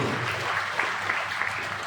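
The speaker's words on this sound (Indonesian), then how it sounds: "Tepuk tangan yang paling meriah buat." Brief congregation applause during an Easter sermon in a church, a soft, steady patter of many hands clapping at a distance for under two seconds.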